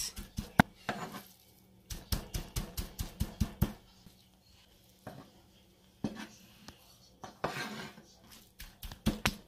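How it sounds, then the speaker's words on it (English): A knife chops shredded birria beef made from chuck on a cutting board, rapid close thuds and clacks in irregular bursts with brief pauses between runs. "I'm going to go ahead and chop it up really good like this."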